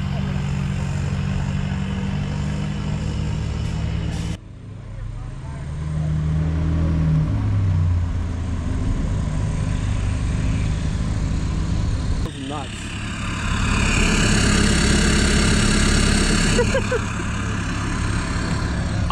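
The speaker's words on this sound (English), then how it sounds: "Up the mountain, all I could hear is diesel." Heavy engine noise roars throughout as several Volkswagen TDI diesel cars drone and rev nearby on a mountain road, the sound swelling louder and harsher toward the end.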